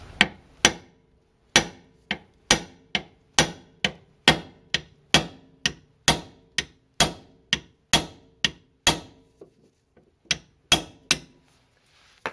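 Sharp metal hammer blows ring out one after another as a steering knuckle is knocked loose on a Mercedes-Benz W202 C280 front suspension, about twenty strikes in a steady, slightly uneven rhythm with brief pauses, loud and close.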